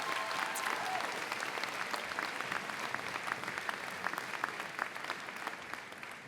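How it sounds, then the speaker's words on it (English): Sustained applause from a large audience at a community college commencement ceremony, steady and dense throughout with no voices standing out. "So let's give them a round of applause as well."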